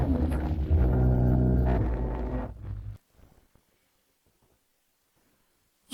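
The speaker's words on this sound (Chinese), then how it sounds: "大雪天的，怎么会打雷闪电？" Thunder rumbles through a snowy scene: a loud, deep roll lasting about three seconds that cuts off abruptly into near silence, followed by a brief sharp crack at the very end.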